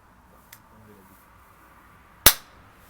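A sharp, loud single snap as the trigger is pulled on a Browning Buck Mark URX pistol, preceded by a faint click, close up with no talking over it.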